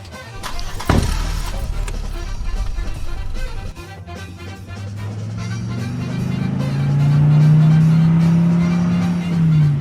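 A getaway car roars off after a sharp bang, its engine rumbling and revving upward into a long, rising drone as it pulls away and speeds off, loud and close with no talking.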